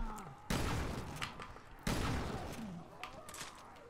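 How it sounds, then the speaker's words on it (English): Two heavy gunshots boom out about a second and a half apart as a zombie is shot in Resident Evil Revelations 2, each a sharp loud blast followed by a decaying tail, with faint lighter clicks between. "let's pump some ammo into this guy"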